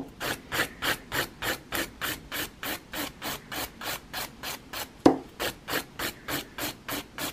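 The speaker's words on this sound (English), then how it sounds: "notice when I'm filing as well, I'm going one way, I'm not concentrating my filing in one area" An acrylic nail tip being filed with steady one-directional strokes, a close, even rasping rhythm of about three strokes per second that carries on without a break and with no voices.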